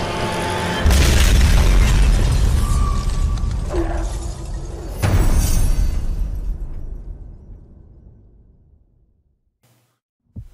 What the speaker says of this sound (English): The exploding glass capital of the world